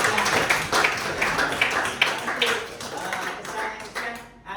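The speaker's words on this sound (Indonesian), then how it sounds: "tepuk tangan untuk Christian" Students in a classroom clap for a classmate, with uneven, fairly close claps rising and falling over a few seconds; no one speaks.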